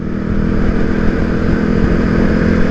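A Kawasaki KLX250S motorcycle engine drones steadily while being ridden on the road, a loud, constant hum with wind rush that doesn't let up.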